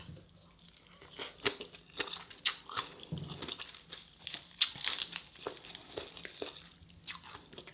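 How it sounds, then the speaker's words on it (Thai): Crunchy fresh raw vegetables eaten with Lao-style papaya salad, producing close, quiet crisp crunches in irregular bites with crinkly chewing between them, no talk. "ผักอะไรอะกรอบเวอร์ฟัง"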